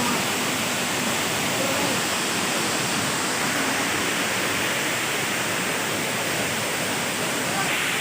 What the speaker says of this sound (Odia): ୱାଟରଫଲ୍ ପୁରା ଭଲ ଲାଗୁଛି